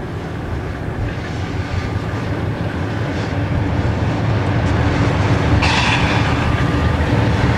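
A freight local hauled by three B36-7 diesel locomotives rolls past on the AB&C line in rural Georgia, a steady loud rumble of engines and wheels holding throughout with no speech.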